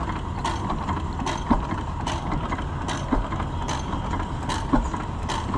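An antique side-shaft gas engine runs at a county fair display, a steady mechanical clatter with regular periodic clicks and knocks roughly every second and a half.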